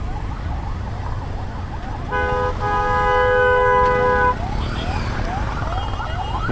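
An ambulance siren blares loud and close for a couple of seconds amid a traffic jam on a bridge, with car engines and horns rumbling around it.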